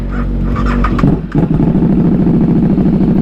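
A KTM RC8 superbike engine fires up and settles into a loud, close idle: a deep, steady rumble that dips briefly at the start, then holds a throbbing, even beat with no talking.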